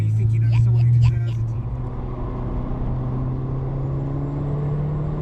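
A modified Mitsubishi Evo VI Tommi Makinen Edition turbo car accelerates from nearby, its engine droning steadily and rising in pitch under a brief burst of speech at the start.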